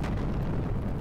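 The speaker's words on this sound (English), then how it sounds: "Giant explosion." A giant explosion from the video game Xenogears booms in a sustained, heavy low rumble with crackling texture, loud and dense throughout with no talking over it.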